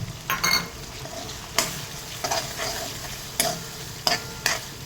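Tomatoes and pigeon peas (tuvar) sautéing in a pan over low heat, with a steady soft sizzle broken by repeated sharp scrapes and clinks of a stirring spoon against the pan.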